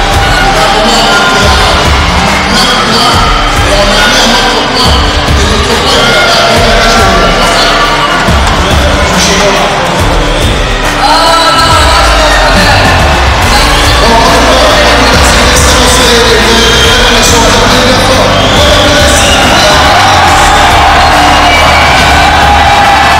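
A large crowd at the Teqball World Cup roars continuously, loud cheering, whoops and yells swelling and surging throughout with no pause.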